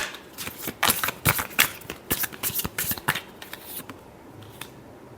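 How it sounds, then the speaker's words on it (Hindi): A deck of tarot cards is shuffled by hand close up, giving a rapid run of crisp riffling slaps and flutters that thins out near the end. No talk is heard. "last shuffle"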